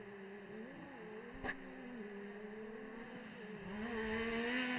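Side-by-side off-road race cars lapping a Texas Outlaw SXS Series track, engines droning and wavering in pitch as they rev and ease off, steady and moderately distant, swelling louder toward the end, with no talking.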